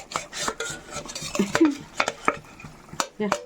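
Fried tilapia and khoira fish going into a boiling curry, with scraping and clinking of a utensil against the pot, soft sizzling and bubbling, and a few sharp splashes and taps, close by with no talk.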